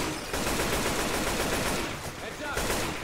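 Dense, rapid gunfire from the video game Left 4 Dead rattles in sustained automatic bursts, loud and close, with a brief dip before the shooting resumes.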